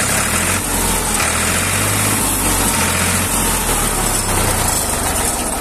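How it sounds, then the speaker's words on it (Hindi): A Ford 3600 tractor engine runs loud and close, a steady diesel rumble whose low pitch shifts as the throttle is worked. "और आवाज देखो इसकी, मैं दिखाता हूँ एक्सीलेटर पे।"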